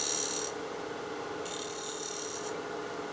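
A turning tool shaves side grain on a lathe with a steady, soft rasping scrape, close by, in two strong passes separated by a quieter stretch.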